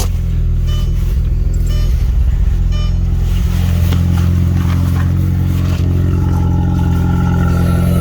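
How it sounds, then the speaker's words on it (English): An Audi TT with a transmission fault revs freely as if in neutral, a loud nearby engine rising in pitch and holding a steady, strained drone. "It'll be like it's in neutral. It just revs up."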